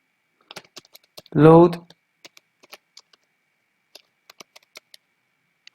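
Computer keyboard typing in sparse, quiet key clicks that come in small bursts, with a brief spoken word near the start.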